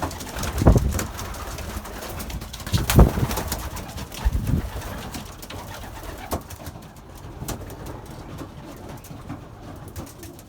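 Young Belgian racing pigeons coo steadily in a loft, a soft layered murmur of several birds with a few louder bursts and wing or perch knocks standing out.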